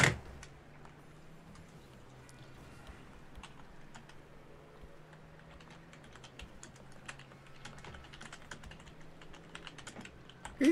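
Rapid computer keyboard typing clatters steadily throughout during a Rocket League 2v2 session, with a low steady hum underneath and no talking.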